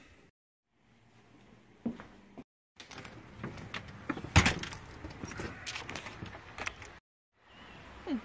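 Keys jingle in a brief metallic burst with scattered clinks as they are gathered up alongside a wallet, pocket knife and phone, close and moderately loud, with short silent gaps before and after.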